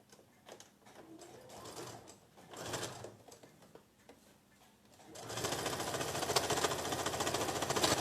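A sewing machine stitches a patchwork quilt block, starting after a few seconds of quiet handling and then running in a steady, fast, close mechanical whir to the end.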